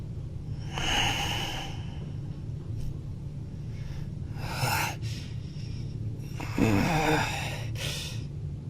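Two people snoring in their sleep, slow rough inhaled snorts and breaths repeating every few seconds over a steady low hum, close and moderately loud.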